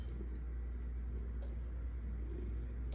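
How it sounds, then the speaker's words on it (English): A cat purrs steadily and softly up close, a continuous low rumbling drone with no other sounds. "I can hear Trumper's purr"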